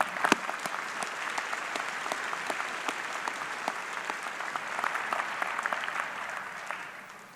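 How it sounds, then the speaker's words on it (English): Sustained applause from a large audience at a university winter commencement ceremony, steady and dense throughout before tapering off at the end, with no talk over it. "Can we have a round of applause for them?"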